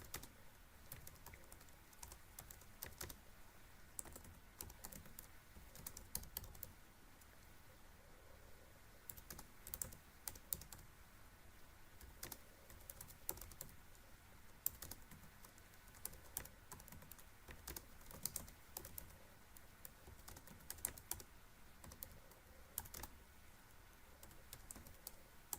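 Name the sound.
typing ticker codes on a computer keyboard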